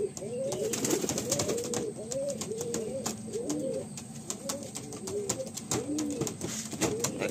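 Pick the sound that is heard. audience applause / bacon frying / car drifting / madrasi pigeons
madrasi pigeons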